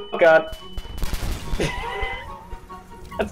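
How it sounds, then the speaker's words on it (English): Fireworks exploding in a video game, sharp popping and crackling bursts in quick succession while people talk over them. "That's a lot of fireworks."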